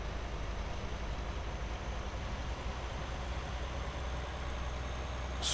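A heavy truck engine labours in low gear in Euro Truck Simulator 2, a steady, loud, droning rumble that holds without pause.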